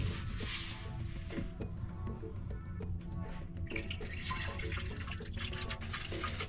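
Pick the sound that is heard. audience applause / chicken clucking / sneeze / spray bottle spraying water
spray bottle spraying water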